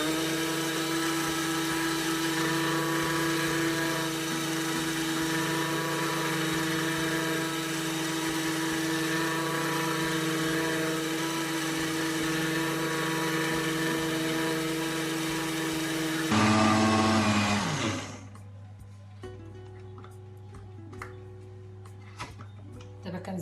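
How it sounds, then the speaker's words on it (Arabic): An electric mixer beats cake batter with oil and vanilla for an easy lemon cake, a loud, steady motor whine that runs for about seventeen seconds, then winds down and stops, leaving only faint clicks. "عاوتاني كنعاودو نطربوها، نطربو داك الزيت والفاني"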